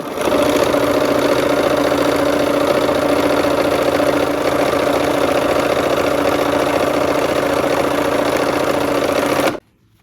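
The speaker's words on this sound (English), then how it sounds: "We're just gonna sew those seams" Sewing machine running close and loud on quilt seams, a continuous fast mechanical whir and needle chatter held steady for nearly ten seconds before cutting off abruptly.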